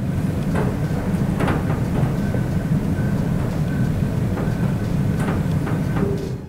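A ship's hull creaks and cracks as it bends during a storm at sea: a constant loud, low roaring rumble with scattered sharp cracks and short groaning creaks throughout.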